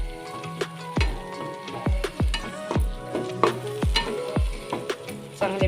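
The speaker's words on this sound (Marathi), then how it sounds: "चांगले मिक्स करून घेऊया." Spoon scraping and stirring through a sizzling bottle gourd curry in a pan as cream is mixed in, with steady frying hiss and repeated sharp clinks of the utensil against the pan, close and fairly loud.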